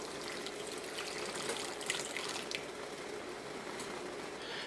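Hot water with dissolved instant coffee poured into a pot, a steady close gushing stream with faint splashing that runs evenly throughout, no voices.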